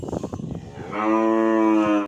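Cattle of the PO breed and PO-Simmental crossbreeds moo on a farm: one long, loud, close low moo follows a burst of rough, breathy grunting and shuffling at the start.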